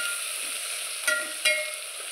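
Chopped tomatoes frying in a pan for masale bhat give a steady close sizzle, broken by two brief louder bursts as they are stirred in.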